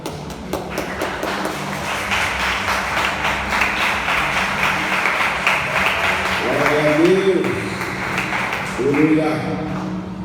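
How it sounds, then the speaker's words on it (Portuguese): A standing church congregation applauds the Lord, with steady many-handed clapping under speech. Toward the end, voices rise over it. "fazendo o agradecimento às palmas do Senhor"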